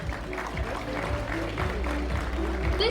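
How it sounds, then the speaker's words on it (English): Applause from a graduation ceremony audience as a graduating section is honored, a dense steady wash of clapping over a low murmur, with faint voices and a tonal hum underneath. "Let's give graduates of Section A a warm round of applause."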